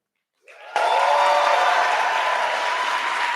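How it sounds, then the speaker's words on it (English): An audience at a startup pitch night breaks into applause: a few claps, then a sudden surge into loud, sustained, enthusiastic clapping that stays strong to the end. "imagine your favorite musician just finishing a killer set and you going berserk with applause"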